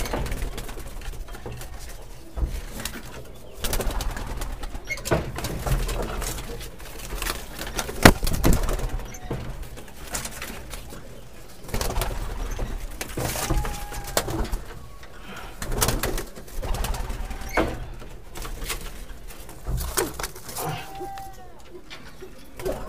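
Madrasi highflyer pigeons at a home loft, repeated soft cooing and wing flutters close by over a long stretch, with someone talking intermittently and a few sharp knocks.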